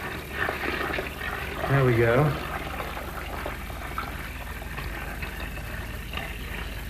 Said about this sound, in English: Pour it in very gently,